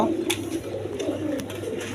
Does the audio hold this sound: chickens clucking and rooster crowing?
no